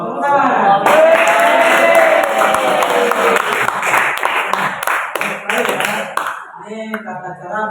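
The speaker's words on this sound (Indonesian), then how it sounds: "Tepuk tangan." Students clap in a classroom, a burst of applause that swells then thins into scattered claps, with voices talking over and after it.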